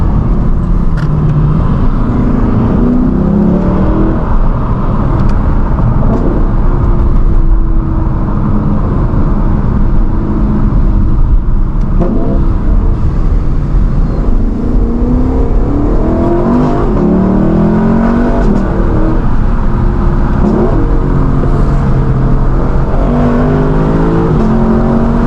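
A Lexus LC 500 V8 engine revs and pulls through the gears while driving, loud and close from inside the cabin, with rising and falling engine pitch sustained continuously throughout.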